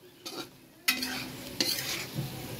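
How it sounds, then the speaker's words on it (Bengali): Meat being stirred in a hot frying pan with a sizzle, a few scraping strokes and clatters of the utensil standing out over a steady frying hiss. "এবার একটু নেড়ে চেড়ে নিব।"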